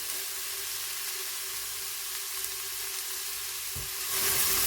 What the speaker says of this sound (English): So these are sautéing down.